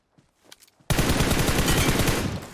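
Rapid automatic gunfire in a video game, a dense burst of loud shots that starts suddenly after a few faint clicks and keeps going to the end.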